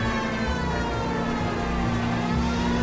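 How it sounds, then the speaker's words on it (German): A police car siren sounds in the video game L.A. Noire, a loud steady wail running over an engine rumble throughout. "Ah, da, die Sirene."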